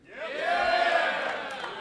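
A live audience at a Killer Instinct event cheers and shouts in a short, swelling roar that holds for under two seconds.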